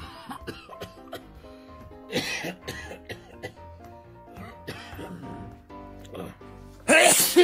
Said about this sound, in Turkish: Evet, bir öksürük sesi geliyor.